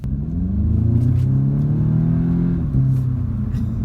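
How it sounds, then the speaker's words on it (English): A 2018 Audi S3 2.0T quattro with S tronic gearbox accelerates hard as its turbo boost builds, a loud, close, steady engine roar that climbs in pitch, dips briefly near the end, then pulls again, with no talking. "Once that boost kicks in, boost is readily available at 1900 RPMs."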